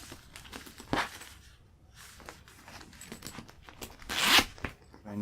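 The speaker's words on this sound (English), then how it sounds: "Fold it over the back so the zipper works." Zipper being worked on a handmade cosplay belt bag, with a couple of quick rasping zip pulls and crinkly handling of the fabric, close and fairly quiet in a still room.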